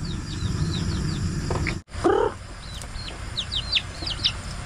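A rooster and hens cluck in the morning at a rural hut, with several clucks and short calls near and far, one louder squawk partway through, and low background noise.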